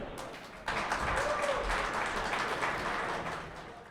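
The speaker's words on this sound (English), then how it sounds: "Big round of applause for Dan." Audience applause for Dan Rodman as he is introduced to speak on go-to-community strategy at a Web3 event, a steady wash of clapping bursting in after a brief pause and holding fairly loud to the end.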